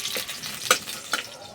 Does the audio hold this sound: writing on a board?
no